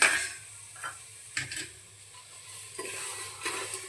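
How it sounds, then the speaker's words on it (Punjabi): Soaked black chickpeas roasting in a pressure cooker over a high flame are stirred, giving a steady sizzle broken by a few sharp scraping strokes and ticks close by. "ਹੁਣ ਆਪਾਂ ਇਹਨਾਂ ਨੂੰ ਹਿਲਾਵਾਂਗੇ ਜੀ ਛੋਲਿਆਂ ਨੂੰ"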